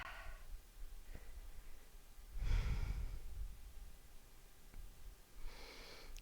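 Slow, soft breaths and sighs come from a person doing yoga outdoors at Veda reservoir, New Mexico, with a few audible inhales and exhales heard alone and close.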